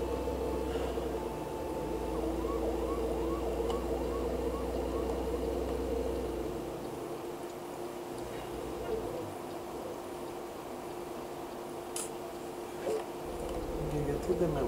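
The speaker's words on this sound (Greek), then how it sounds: "Τα περιπολικά πάνε και έρχονται." A police car siren in American Truck Simulator gives a run of short rising whoops at moderate distance, with a voice talking and a low engine rumble underneath.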